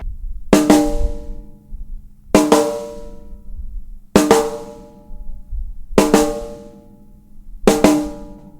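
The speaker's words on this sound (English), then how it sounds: "the second part is made of 2 notes" Drums play the second part of a makossa pattern, two sharp strokes struck close together, repeated five times at an even pace with gaps between pairs, loud and near with no talking.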